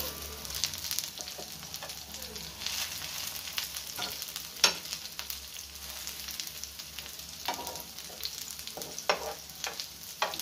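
Prawn head fritters fry in hot oil, a steady soft sizzle and crackle with occasional scrapes and pops as they are pressed and turned in the pan, with no voices.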